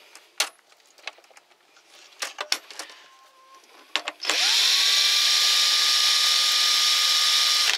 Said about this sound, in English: Okay, so I just popped the screws out.